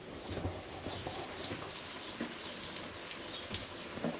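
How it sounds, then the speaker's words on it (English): Soft, steady rain falls at a distance around a truck camper, a quiet hiss with occasional louder drops tapping nearby. "And of course it's raining today"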